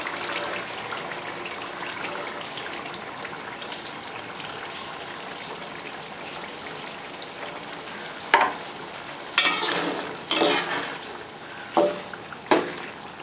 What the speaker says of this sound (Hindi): फेंटे हुए अंडे डालेंगे।